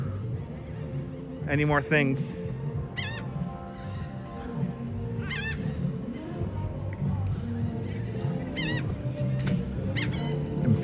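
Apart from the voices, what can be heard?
seagulls calling at a gloomy beach, Coney Island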